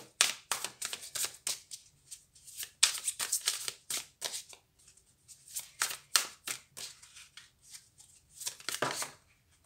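Tarot cards shuffled by hand nearby: bursts of crisp riffling and slapping, each a second or so long, separated by short quiet pauses and repeating in irregular runs with no talking.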